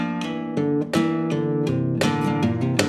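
Flamenco guitar plays closing bulería falseta bars in a Sabicas-inspired style, with sharp plucked notes and bright strummed chords landing in an uneven rhythmic pattern, close and clear, with no voices.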